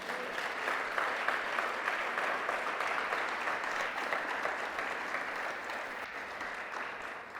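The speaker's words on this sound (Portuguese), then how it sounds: "Você pode aplaudir a Deus por isso?" A church congregation applauds during a sermon: continuous, even clapping from many hands for about seven seconds, moderately quiet and slightly fading toward the end.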